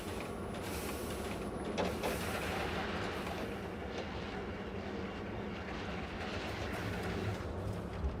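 Roller coaster train in the Planet Coaster 2 video game rumbling along its track, a dense, steady roar of wheels and rushing wind, moderately faint and continuous without pause.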